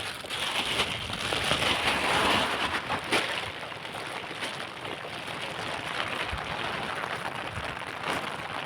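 Heavy rain falls steadily, a dense continuous hiss of drops pattering on surfaces, loud and close, slightly stronger early on and then holding even to the end.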